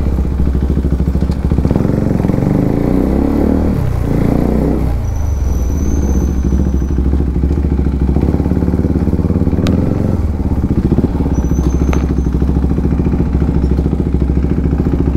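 A motorcycle engine revs loudly and close up, rising and falling through a couple of throttle blips over a steady rumbling idle, with no talk.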